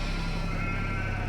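Sheep bleat on a farm in Farming Simulator 22, a brief steady bleating tone over a constant dense ambient wash of game sound.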